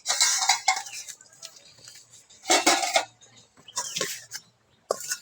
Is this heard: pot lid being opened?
yes